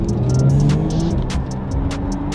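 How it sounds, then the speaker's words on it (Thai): A Porsche 911 GT3 of the 992 generation drives past at steady speed, its engine a loud, continuous hum with gentle rises in pitch, accompanied by road and wind noise. "ครั้งแรกกับการลองขับ 911 GT3 ตัว 992"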